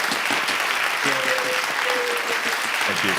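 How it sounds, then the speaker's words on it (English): A Rotaract club audience gives a round of applause, steady clapping from a modest crowd heard at moderate level, with brief voices and a short tonal sound partway through. "let's give these guys a big round of applause, because that was great"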